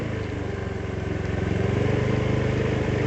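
A motorcycle engine runs steadily at close range with a low, pulsing drone, rising slightly in loudness as it moves along a road wrecked by a landslide, with no talk over it.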